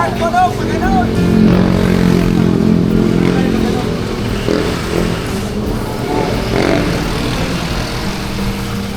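A loud motorcycle engine rumbling and revving nearby, steady throughout, with voices talking over it.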